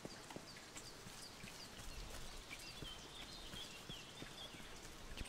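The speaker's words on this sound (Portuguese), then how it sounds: "Tô ouvindo tipo um cavalo." Faint, steady horse hoofbeats clip-clop in a quick rhythm in the video game Force of Nature, somewhat distant, with light background ambience and no talking.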